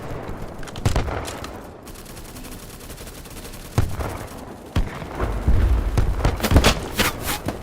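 Battlebit Remastered gunfire cracks in sharp, separate shots and short bursts, loud and near, spaced by quieter gaps with some heavier booms, ending in a busier volley.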